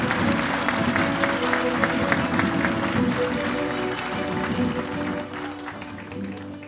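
A crowd at a harvest event in Silivri applauds as Istanbul mayor Ekrem İmamoğlu is welcomed to the podium. The sustained clapping rolls on under steady background music and slowly tapers off.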